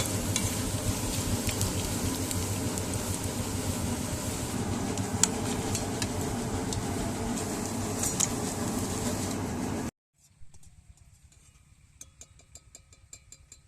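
Round balls of spinach mixture frying in hot oil until reddish, a steady close crackling sizzle with stirring that stops abruptly, leaving quieter faint kitchen sounds.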